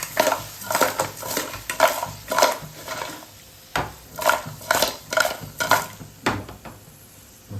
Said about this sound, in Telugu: ఇప్పుడు దీన్ని సాల్ట్ పట్టేలాగా వీటిని మిక్స్ చేసుకోవాలి